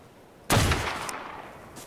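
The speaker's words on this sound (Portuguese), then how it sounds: "Escutei um tiro" A single sharp gunshot in ARK: Survival Evolved bursts out of near silence, followed by a short decaying echo and a faint second crack.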